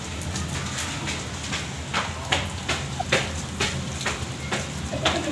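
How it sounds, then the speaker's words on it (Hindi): Heavy rain pours down steadily as a dense, broadband hiss, with repeated sharper splashes and drops spattering close by on a surface, and no voices heard. "इतनी जोर से बारिश हो रही है ना"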